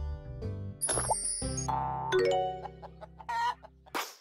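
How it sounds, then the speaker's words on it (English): A hen clucks in a few short bursts, then a higher squawk, close and clear among brief plinking sound effects, with no talking. "Hen"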